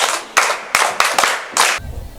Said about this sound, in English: Okay, clap for yourself